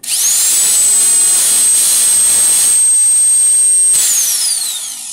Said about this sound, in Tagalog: Pero wala naman tahimik na grinder eh.